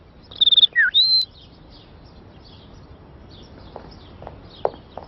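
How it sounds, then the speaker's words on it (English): Bird calls come from an animated Family Guy scene: a few close, bright chirps and a rising whistled tweet in a quick burst near the start, followed by faint scattered clicks and light tapping sounds. "Oh, no, those are just my bird calls."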